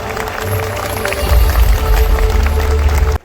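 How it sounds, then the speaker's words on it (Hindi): A crowd at a medal ceremony claps in a steady, swelling round of applause that stops abruptly at the end, with some voices mixed in. "एक बार जोरदार तालियां उत्साह के साथ"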